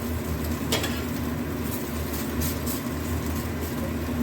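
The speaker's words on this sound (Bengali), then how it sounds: "এইভাবে আরেকটা অমলেট করবো, করে নামিয়ে নেবো একটু ভাজা ভাজা করে" An onion omelette fries in a pan with a steady, close sizzle and crackle, mostly even throughout and heard alone with no talking.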